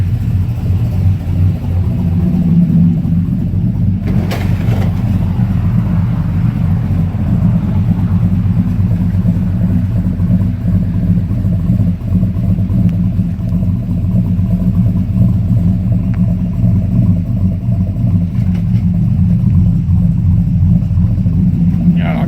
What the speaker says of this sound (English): Most annoying sound ever is when you hear an exhaust tick.